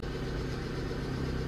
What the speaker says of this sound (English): So I'm idling at normal operating temperatures,